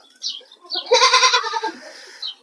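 A goat bleats loudly and tremulously up close, preceded and followed by shorter, fainter bleats of young kids.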